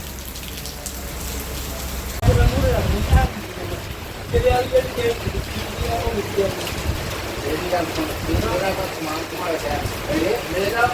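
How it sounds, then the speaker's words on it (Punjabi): Heavy, continuous monsoon downpour over flooded farm fields in Rajasthan, a steady broadband hiss of rain drumming on water and surfaces throughout, with someone talking over it and brief louder splashing bursts. "ਮਿੱਤਰੋ ਝੜੀ ਲੱਗੀ ਪਈ ਐ ਘੰਟਾ ਡੇਢ ਘੰਟਾ ਹੁਣ ਫੇਰ ਹੋ ਗਿਆ ਲਗਾਤਾਰ"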